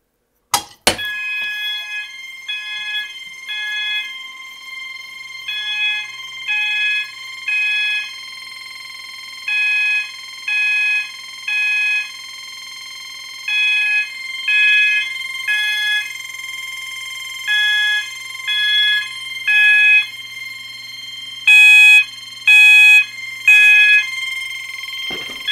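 A Notifier AFP 200 fire alarm panel under test sounds a loud electronic tone pattern nearby, repeating groups of short beeping pulses with brief gaps, ending in a faster burst of pulses.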